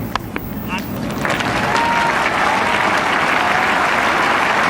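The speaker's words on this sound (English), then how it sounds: "Well-deserved applause." Spectators at a Test cricket match between Pakistan and England applaud a batsman's half-century, steady clapping from a large crowd rising quickly and holding at full strength, with commentary voices over the top.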